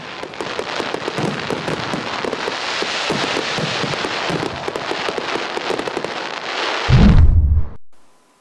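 Rapid, dense crackling bursts of fireworks going off continuously at a festival, ending with a louder low boom before fading out.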